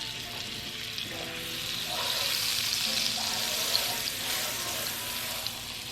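Pork chops sear in butter and oil in a pan with a steady, moderately loud hiss and sputter, growing a little fuller partway through, with no talking.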